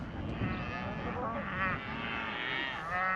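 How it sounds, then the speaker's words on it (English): Cattle running across a field give faint distant lowing and a rumble of movement under excited talk from people watching nearby. "Oh, I could never see the cow run so fast."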